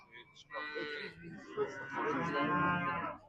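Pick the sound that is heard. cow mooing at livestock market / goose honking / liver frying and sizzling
cow mooing at livestock market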